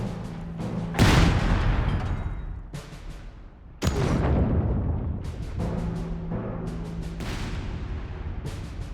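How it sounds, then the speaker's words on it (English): High-explosive artillery barrage in Company of Heroes 3, with heavy shells booming close by in several loud detonations, each trailing a long rumbling decay, plus sharper impacts and crackles in between. "Fixed round! HE barrage!"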